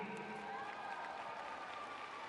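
A Chinese crowd at a men's free skating event in Shanghai applauding, a dense, distant wash of clapping and crowd noise filling the arena, steady throughout.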